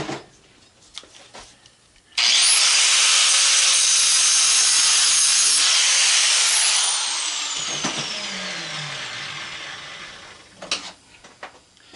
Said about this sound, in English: I'll go ahead and hit it lightly with the angle grinder